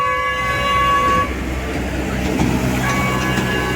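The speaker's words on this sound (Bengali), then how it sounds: "আরেকটা টয় ট্রেন চলে এসে দেখতে পাচ্ছ" A toy train arriving at Eco Park sounds a steady, tonal horn for about a second, then its rumble and clatter carry on close by, loud over outdoor ambience.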